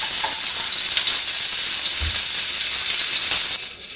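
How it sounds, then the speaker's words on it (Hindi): Olive oil and butter sizzle loudly in a pan, a dense, steady frying hiss that continues unbroken and eases slightly in the final moment. "डाल रहे हैं 1 टेबल स्पून तेल, ऑलिव ऑयल है और बटर। दोनों को अच्छी तरह से मिक्स करेंगे।"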